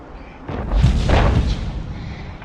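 A tank cannon fires in the World of Tanks Blitz video game: one heavy, booming shot with a rumbling tail, loud and close, with no talk.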